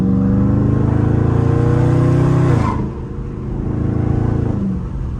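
A Dodge Charger Scat Pack with a burble exhaust tune holds a loud, deep engine drone that rises, then drops off as the revs fall, followed by a lower rumble that builds again, heard close from inside the car.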